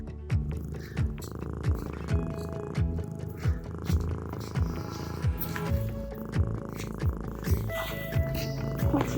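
A cat at the Holy Trinity monastery in Etropole purrs right up close, a steady rhythmic rumble pulsing roughly once per second with a soft hiss over it, continuous throughout.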